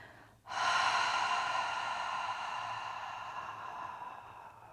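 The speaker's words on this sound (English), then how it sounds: "cleansing breath, so with our mouth open, so inhaling through the nose and exhaling through the mouth" A single long cleansing breath during a yoga session: a quick nasal inhale, then a loud, steady exhale through an open mouth that slowly fades over several seconds, close to the microphone with no talking.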